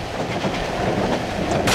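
Steady rumbling train interior in the horror video game Cry of Fear, a continuous moderately loud drone with faint rhythmic rattling and a brief brighter hiss at the very end.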